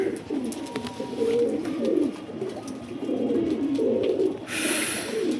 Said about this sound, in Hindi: जहाँ तक मुझे लगता है ये टोंक वाला कबूतर है ये